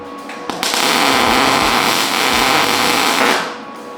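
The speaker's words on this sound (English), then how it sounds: "I'm just gonna tack it at first, and then I'll kind of show you how to weld." A welder tack welds steel rock sliders onto a junker Jeep, giving a loud, steady crackling hiss that runs for about three seconds between brief starts and stops.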